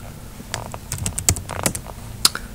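Quick bursts of keystrokes on a computer keyboard as a command is typed, irregular clicks and taps in a short run, close and clear with no voice over them.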